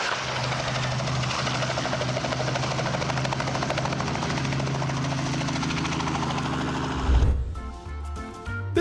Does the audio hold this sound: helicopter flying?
yes